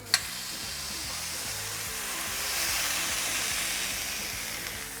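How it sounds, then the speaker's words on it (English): Steady, bright sizzling hiss of a smashed burger patty frying on a hot stove, continuous and fairly close, with a faint low hum beneath. "So we plop on there, you should hear a good sizzle."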